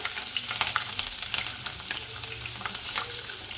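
Cumin seeds, bay leaf and green chillies sizzle and crackle in hot oil in a pan while preparing Maharashtrian matar rice, a steady close frying hiss with small pops throughout.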